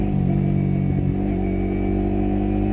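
A Yamaha R15 motorcycle with an electronic throttle runs steadily while being ridden, its engine holding a constant loud drone with a slight shift in pitch partway through and no talk over it.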